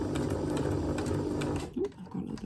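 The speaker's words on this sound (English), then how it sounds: "I've got the sewing machine on" A sewing machine runs steadily, stitching paper stars into a festive garland with a slight vibration, then the whirring stops and a couple of short mechanical clunks follow as the paper is repositioned.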